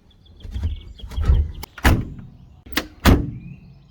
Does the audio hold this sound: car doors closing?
yes